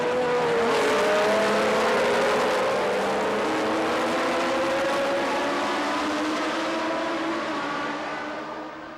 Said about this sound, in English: the cars came back into the stadium